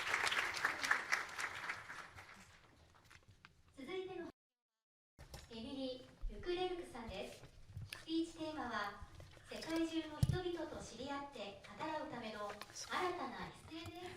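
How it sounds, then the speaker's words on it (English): Audience applause at a children's world peace summit rings out for about three seconds before fading, followed by a presenter speaking in a hall, with a brief silent gap in the middle of the talk. "Please give a big round of applause again"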